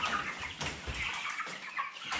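Ross 308 broiler chickens and young cockerels, about thirty days old, cluck and rustle close by in a pen, with scattered low clucks and some wing flapping throughout.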